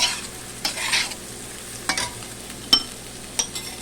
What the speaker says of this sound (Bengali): এবার চিড়েগুলো ঢেলে দেব একটু ভালো করে নেড়ে চেড়ে